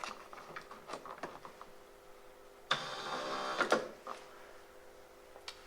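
An electric front seat motor in a Mercedes W124 runs for about a second, a faint whirring buzz amid quiet clicks and handling noises, with no talk.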